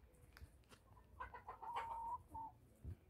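Chickens clucking and a rooster calling in a backyard, a few short bird calls building through the middle before easing off, fairly close, with low rustling beneath.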